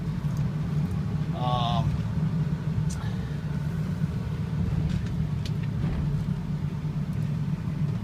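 A 2006 Ford F250 diesel truck driving, a steady low engine rumble and road drone heard from inside the cab throughout, with a faint brief chirp early on.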